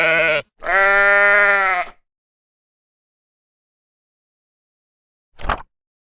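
A sheep bleat used as a sound effect in a children's phonics story, one long wavering bleat loud and close after a short opening burst, then silence and a brief soft thump near the end.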